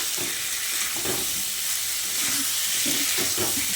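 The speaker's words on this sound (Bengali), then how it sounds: "এবার কুমড়োগুলো দিয়ে মশলার সঙ্গে খুব ভালো করে কষিয়ে নিতে হবে।" Fried pumpkin pieces sauté with spice masala in a pan, a steady hissing sizzle with soft scraping stirs recurring at an uneven pace.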